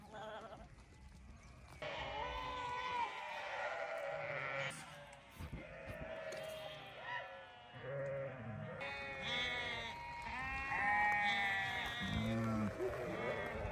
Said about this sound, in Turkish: Koyunlar durmuyor.